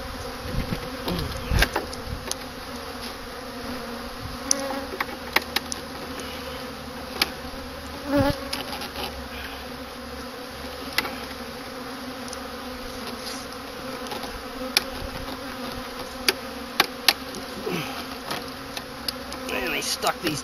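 Honeybees buzz steadily around an opened hive during a late-winter apiary inspection. The drone is continuous and close, with scattered knocks and clicks from hive equipment throughout.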